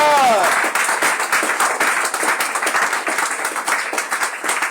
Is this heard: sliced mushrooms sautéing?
no